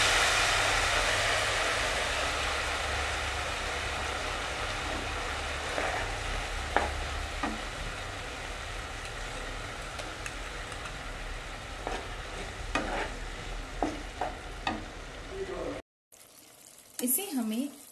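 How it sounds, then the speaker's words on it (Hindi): A sauce for chilli gobi, with vinegar added, sizzles and bubbles in a pan and is stirred with scraping strokes. The steady frying hiss fades toward the end and gives way to a few louder clatters. "अब इसमें ऐड करेंगे हम सॉस और विनेगर भी, और इसे अच्छे से मिक्स कर लेंगे।"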